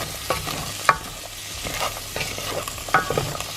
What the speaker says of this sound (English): Once your garlic and your onion is all in there and it's sizzling away